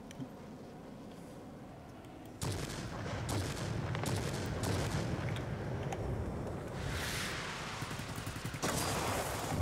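Heavy automatic cannon fire from a Messerschmitt Me P.1099 B2 jet in an aerial combat game, starting after a quieter stretch of engine drone and continuing as dense, loud, rattling bursts with short gaps to the end.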